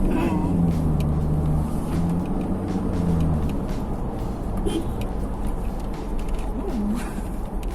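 A Ford Ranger 2.2L pickup engine with a remapped ECU rumbles steadily with a deep exhaust drone, rising slightly in pitch at moments, close and continuous.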